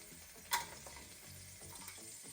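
Garlic cooks gently in a tablespoon of oil that is not yet piping hot, a faint, quiet sizzle with one brief sharp tick near the start.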